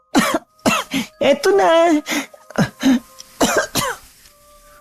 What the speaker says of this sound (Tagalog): Ubo ng ubo.